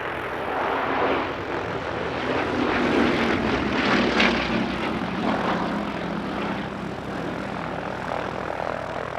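A Bristol Blenheim propeller aircraft flying at an airshow gives a steady, loud, droning engine roar that swells gently as it passes, with no speech.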